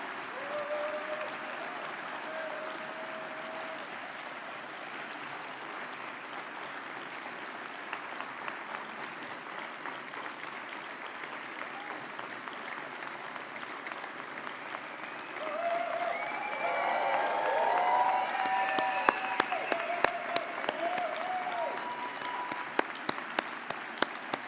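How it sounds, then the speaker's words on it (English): Audience applause at an awards opening ceremony, a steady spread of clapping running throughout and swelling louder in the second half, with some whistles or cheers rising near the end. "I think we need to give a big round of applause for all our awardees right now"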